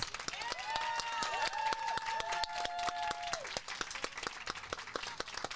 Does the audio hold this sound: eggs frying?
no